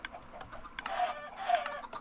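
Video game chickens cluck in short, soft bursts, a few quick calls close by with a faint electronic hum underneath.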